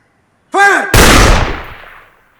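A single loud gunshot rings out close by, followed by a long decaying boom and echo, on a military firing range after a shouted order to fire; a short voice precedes the blast.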